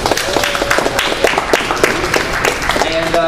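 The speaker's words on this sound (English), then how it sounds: "Everybody give another round of applause to Manuel Yang." A loud round of applause from the audience at a university open-mic night, dense clapping close by with crowd noise and a voice speaking over it near the end.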